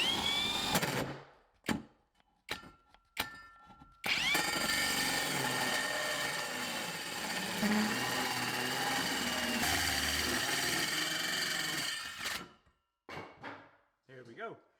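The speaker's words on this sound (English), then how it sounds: "So this hole saw is really big and powerful, so I'm going to use both hands and start drilling through here." A large, powerful hole saw cuts through a surface in one long sustained grinding whir lasting several seconds, set between short bursts of handling clatter and bumps, loud and close.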